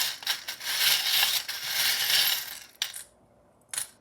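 Small metal charms rattle and tumble in a dense jingling burst for nearly three seconds, then two short clinking drops follow after a pause, close and fairly loud with no talking.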